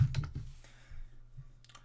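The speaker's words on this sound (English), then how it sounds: "I'm going to have to type this in." Keys clack on a computer keyboard in a short burst of quick, close taps that fade into scattered, softer clicks. A faint low hum sits underneath, and nobody talks.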